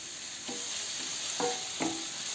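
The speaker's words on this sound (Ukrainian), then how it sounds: "І розмішуємо." Vegetables with smoked paprika are stirred in a pot of asparagus stew, a few soft scraping and clinking strokes over a steady low sizzle, close by and without talk.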